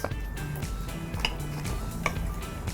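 Thai tuna salad with coriander and herbs being tossed in a bowl, utensils clinking and scraping against the dish in quick irregular taps, close and fairly soft, with no voices.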